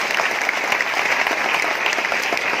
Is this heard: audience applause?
yes